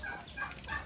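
Chickens clucking in short bursts, fairly close, with a steady farmyard murmur behind them and no talking.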